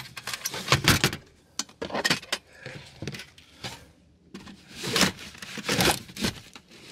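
Bagged ratchet straps get shoved under a seat in a truck camper, producing bursts of crinkling plastic, jangling metal buckles and scraping, in irregular clusters separated by brief pauses, close and fairly loud.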